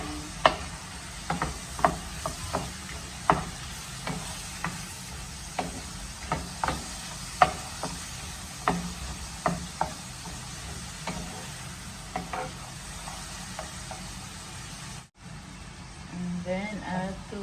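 Banana being pressed and fried in a pan for banana toast bread, with a soft steady sizzle under repeated sharp taps and scrapes of a utensil against the pan, close by, ending in a brief pause.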